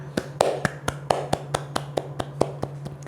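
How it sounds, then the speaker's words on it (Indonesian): Students clapping hands in a classroom, a sparse run of sharp separate claps close by, a dozen or so irregular hits with no voices over them. "Yuk beri tepuk tangan untuk kita semua."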